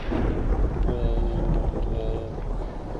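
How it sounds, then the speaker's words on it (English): Thunder in a Minecraft game, a loud rumbling roll mixed with rain-like hiss that stays dense and steady for a few seconds, with no clear talk over it. "Thunder and lightning."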